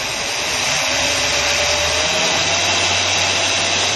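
A Chrysler 440 boat engine rises in speed, its broad, roaring drone growing as a low tone climbs partway through, close and steady with no voices.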